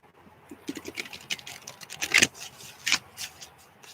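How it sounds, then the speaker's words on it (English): Tarot cards being shuffled by hand, heard as quick papery riffles and soft slapping bursts that grow sharper toward the end, close and with no talking. "Couple more shuffles."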